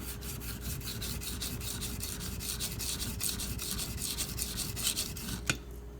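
A Karaku AS Gyuto 210mm kitchen knife is drawn steadily back and forth across a sharpening stone, close and even, a rhythmic scraping rub repeated many times with a sharp click near the end.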